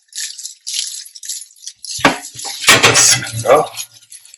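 A metal baking tray of stuffed eggplant slides onto the middle rack of an oven preheated to 200 degrees, with clattering metallic clanks and scraping in the second half after quieter kitchen handling.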